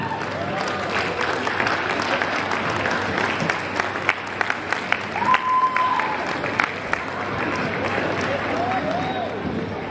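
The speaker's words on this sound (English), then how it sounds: "I know you all clapping" Crowd applauding at a college commencement ceremony in a large hall, sustained dense clapping with scattered cheers, a few whistles and voices mixed in.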